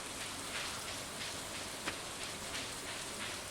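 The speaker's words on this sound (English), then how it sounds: "Maybe Clint isn't coming because of the rain" Steady rain falls in the Stardew Valley video game, a constant soft hiss of drops at an even, moderate level with one small tap in the middle and no voices.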